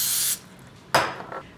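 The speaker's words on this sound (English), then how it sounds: "And then spray the plastic wrap." Vegetable cooking spray hisses from an aerosol can onto plastic wrap lining a small glass bowl, coming as a loud close burst followed by a second shorter spray and a softer puff, with no talk.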